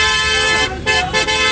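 Imran Khan's car pulling away from the Parade Ground rally venue at night, its horn honking in loud, sustained blasts with a short break and a couple of quick toots, close by over traffic noise.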